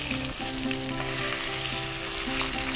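Chicken cafreal pieces frying in oil with spice powders on a low flame, a close, dense sizzle with a few spatula stirs scraping through it, no voices.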